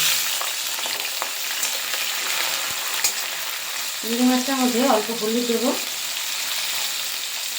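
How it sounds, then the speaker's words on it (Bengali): Prawns fry in hot oil with a little turmeric, making a continuous close sizzle while someone speaks briefly over it. "এইবার চিংড়ি মাছটা ভেজে নেব।"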